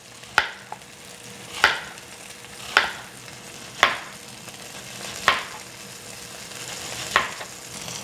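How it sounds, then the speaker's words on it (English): Pork chops sear in a pan with a steady low sizzle, broken by about six sharp, evenly spaced knocks, close and fairly loud. "while I'm waiting on the pork chops to sear"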